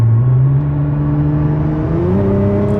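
A Nissan R35 GT-R pulls hard at full throttle from a rolling 60 mph, the engine note climbing steadily and shifting once near the end; loud, close and continuous, with no talking.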